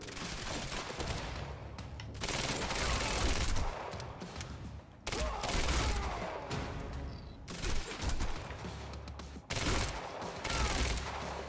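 Gunfire in the video game Quantum Break, repeated bursts of automatic fire and single shots in several volleys separated by brief pauses, loud and close with a game soundtrack under it.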